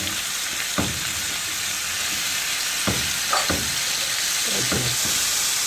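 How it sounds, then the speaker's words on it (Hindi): Chicken pieces for a chicken tikka pizza frying in a pan, a steady loud sizzle and hiss with a few soft knocks of stirring, close up and alone. "अब चिकन इसमें डाल देंगे।"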